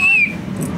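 A single shrill whistle tone sounds briefly at the start on a railway film set, then fades into low background murmur.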